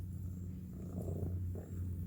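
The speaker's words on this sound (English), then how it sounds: "Her meows are very subtle, but her purrs are super loud." Close, steady purring from a cat, a low rumbling drone that keeps going without pause.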